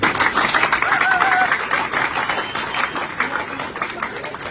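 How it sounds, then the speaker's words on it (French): A crowd of young people at a Pan-Africanist gathering in Cap-Haïtien, Haiti, applauds. The dense clapping swells at first, then slowly thins out, with a few cheers rising over it. "Applaudissez-vous s'il vous plaît."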